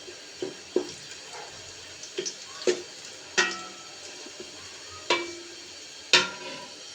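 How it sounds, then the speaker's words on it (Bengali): Fried onion beresta is lifted out of hot cooking oil, with a soft continuous sizzle beneath a series of sharp, close utensil clinks and scrapes spaced irregularly against the pan. "এখন আমি সবগুলো সুন্দর করে তুলে নেব।"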